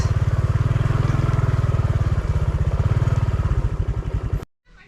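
Honda XRM 125Fi motorcycle on a muddy off-road farm trail, its engine putting out a loud, steady rhythmic putter close by before cutting off abruptly near the end.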